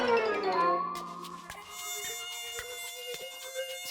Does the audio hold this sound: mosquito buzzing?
yes